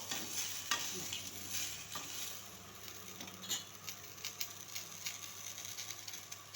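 Onion sautéed with tamarind and asafoetida in a pan, a faint, soft sizzle broken by intermittent light scrapes and clicks of a spoon, quiet and close.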